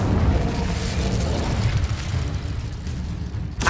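Incendio fire spell cast in the Hogwarts Legacy video game: a loud, continuous fiery roar and rumble with a booming low end, lasting over three seconds and ending in a brief sharp burst.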